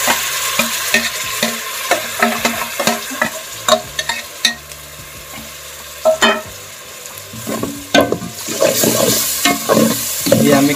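Onion and tomato paste with garlic and ginger frying in a pan, giving a steady close sizzle broken by repeated scraping and stirring strokes, with no talking.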